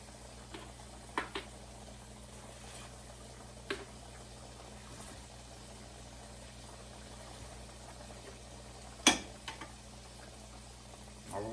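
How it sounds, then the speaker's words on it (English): Macaroni and cheese boils in a pot with a faint, steady bubbling simmer and a few soft pops scattered through it. "macaroni and cheese is boiling pretty good"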